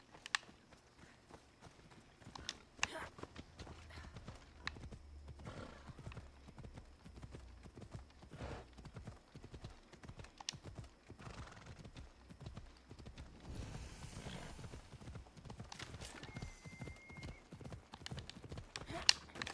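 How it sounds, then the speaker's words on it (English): Horse hooves clip-clop at a walking pace with an occasional whinny in Assassin's Creed Odyssey, the steady hoofbeats running throughout amid game ambience. "Why am I not on my horse?"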